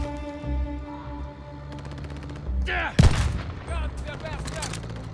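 Gunfire from an SVD rifle in Call of Duty Vanguard: a single loud, close shot rings out midway, followed by scattered further blasts over a backdrop of steady in-game tones and ambience.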